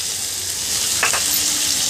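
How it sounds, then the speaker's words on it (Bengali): Chopped onion frying in oil with a pinch of salt and a few bay leaves, giving a steady, close, broadband sizzle with a brief stirring scrape midway. "এখন ভালো করে নেড়ে চেড়ে পেঁয়াজটাকে হালকা বাদামি কালার করে ভেজে নেব।"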